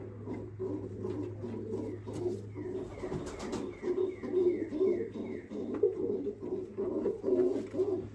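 White doves in a breeding loft coo repeatedly in soft, overlapping rhythmic calls, with a steady low hum underneath and occasional faint chirps and rustles nearby.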